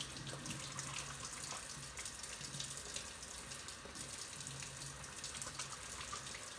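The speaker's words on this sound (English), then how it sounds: "Rinsing from your wrist down." Hands rinsed from the wrists down under a running faucet at a sink during a microbiology lab hand-washing routine, a steady, continuous stream of water splashing close by with no voices.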